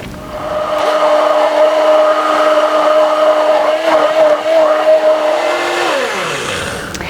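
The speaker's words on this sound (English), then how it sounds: "you don't want to use your immersion blender for more than about a minute at a time" Immersion blender whirring steadily through a batch of coconut milk mayonnaise, a loud close motor whine with a slight wavering pitch as it works, winding down near the end.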